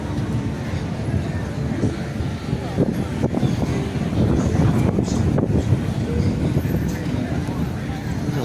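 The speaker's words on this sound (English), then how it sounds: "The wind is picking up." Strong wind near Gatlinburg in the Smokies during a high wind advisory, a steady rushing roar buffeting the microphone with gusts throughout, with no talk over it.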